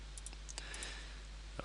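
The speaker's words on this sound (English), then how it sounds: "I must be more careful with my clicking." A computer mouse clicks in 2D design software: several faint, quick, light clicks in a cluster and then one more, over a low steady hum.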